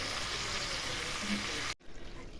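Steady loud sizzling and crackling of onions frying in a pan, which cuts off abruptly near the end, leaving quieter room noise.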